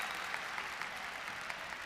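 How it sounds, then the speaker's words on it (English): A college wrestling crowd at an Ohio State at Rutgers dual meet clapping and cheering, a faint, steady patter of applause with scattered sharper claps. "There's the crowd getting into it a little bit, Nick."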